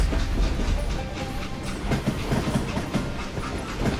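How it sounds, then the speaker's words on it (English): A train in the Call of Juarez video game rolls along with a steady rumble and repeated rhythmic clacks of wheels over rail joints, moderately loud and unbroken. "It was then that Jesse detached the express car from the rest of the damn train."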